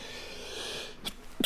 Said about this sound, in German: Hatschi, Entschuldigung.